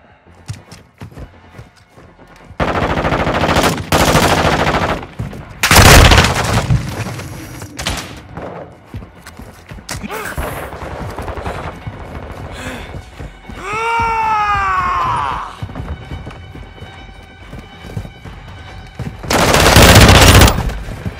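Call of Duty Modern Warfare 2 multiplayer gunfire, loud close bursts of automatic shots and booming impacts broken by quieter gaps, with a rising whine partway through.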